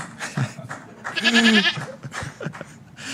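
A goat gives one loud, wavering bleat in the middle of a short clip, with a couple of softer animal noises around it.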